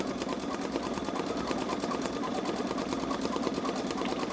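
A Babylock Solaris Vision embroidery machine stitches out a design with a fast, even, continuous mechanical chatter at close range, alone and steady throughout.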